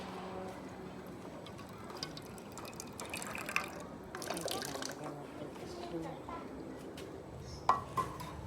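Water is poured into a hanging animal cage: intermittent drips and small trickles, with light clinks, run under occasional nearby talk.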